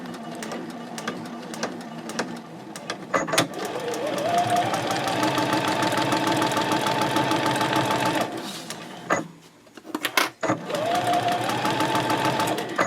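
A sewing machine stitches a fabric seam through the exterior and lining of a fold-flat knitting project bag, running in a steady close hum with a couple of short pauses and restarts.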